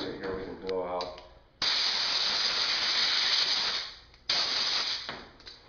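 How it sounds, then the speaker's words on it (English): An air compressor nozzle blows off bicycle rear-wheel cassette parts during cleaning, two loud hissing air bursts up close after a few softer puffs and faint handling noises at the start. "If you get some parts that need to be blown off with an air compressor"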